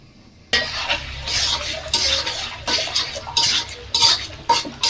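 Egg and potato masala being stir-fried in a pan, with loud rhythmic scraping and clanking of a spatula against metal over a low sizzle, in repeated close strokes.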